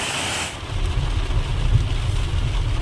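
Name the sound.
heavy rain falling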